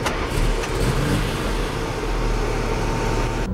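A car engine pulls away, a steady mid-pitched hum rising as it gathers speed, loud and close with no voices.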